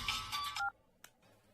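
A telephone keypad gives off a quick run of dialing tones, several rapid beeps close together, and one short electronic tone ends it before a quiet pause and a faint click.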